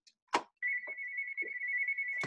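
During a Zoom call, a phone ringtone plays a steady, fairly quiet electronic tone for nearly two seconds, framed by brief clicks and small knocks.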